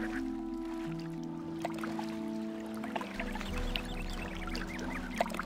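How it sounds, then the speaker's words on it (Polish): Water splashes and sloshes as a character swims in Gothic II, a steady watery churn lasting several seconds beneath sustained game music, with no talking. "Ależ ta woda chlupie."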